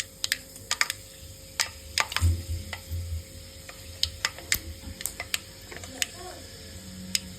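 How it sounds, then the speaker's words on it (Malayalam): Mustard seeds popping in hot sesame oil for a bitter gourd pickle, heard as scattered sharp crackles and pops at irregular intervals over a faint sizzle, close by, with no talking. "എണ്ണ ചൂടായതിന് ശേഷം നമുക്കതിലേക്ക് കുറച്ച് കടുകിട്ട് കൊടുക്കാം."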